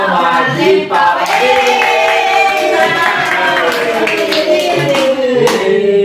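Guests at a simple surprise birthday party clap along while a group sings a festive birthday song, the hand claps partly buried under the loud, close voices.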